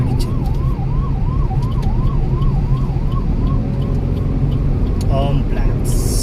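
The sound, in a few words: ambulance siren passing on road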